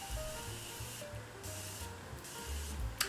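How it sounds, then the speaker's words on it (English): Morphe Continuous Setting Spray mists onto a face in a soft, faint continuous hiss with slight pulsing, close up, with no talking. "to set my face, I'm just going to be going in with the Morphe Continuous Setting Spray"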